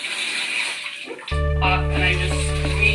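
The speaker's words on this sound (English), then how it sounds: "I always just have the sink right next to us, use warm water, and I wet the suit." Warm water runs steadily from a sink tap beside a person preparing wet wrap therapy garments, a continuous close gushing stream that starts abruptly partway through after quieter handling sounds.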